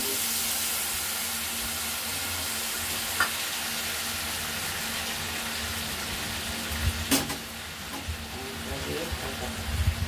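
Spices sizzle and fry steadily in hot oil for a shrimp curry with green jackfruit, a continuous close hiss with occasional stirring clatters, while a voice talks briefly.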